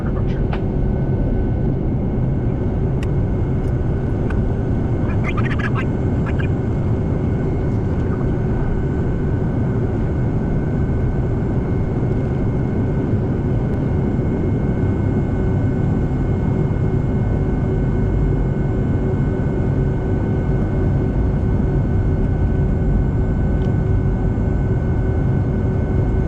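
A steady, loud cabin roar of a Boeing 757-200 airliner waiting to depart from Washington DCA, with a constant engine hum and whine throughout and a few faint clicks near the start.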